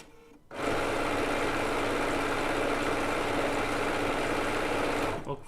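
A Bernina B990 sewing machine stitches decorative stitches along a quilt binding, running at a steady, loud, continuous buzz from start to finish with no talk over it.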